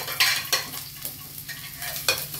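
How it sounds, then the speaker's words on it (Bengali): Onion and garlic frying in a pan for Bengali egg tarka, a close sizzle punctuated by several quick stirring scrapes. "আমি ফ্রাই করে নিচ্ছি।"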